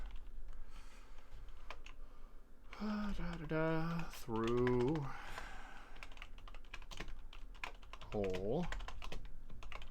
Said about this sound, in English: I'm going to bring a keyboard forward here.